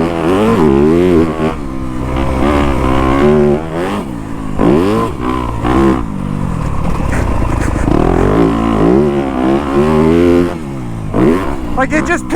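A 2025 Yamaha YZ250F motorcycle accelerates hard out of a corner, its engine revving loud and close with repeated rising pitch sweeps as the rider shifts, under continuous wind and riding noise.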